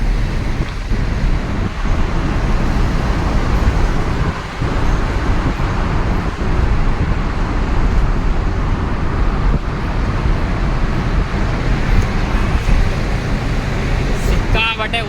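A truck on a long road tunnel drive, a dense continuous roar of engine and road noise echoing around the cab, steady throughout with brief shifts in level.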